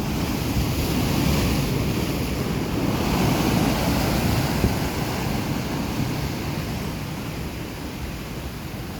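Sea waves surge against a newly built breakwater at an estuary mouth during a swell surge, a steady broadband roar of surf with gusting wind across the microphone, no voices.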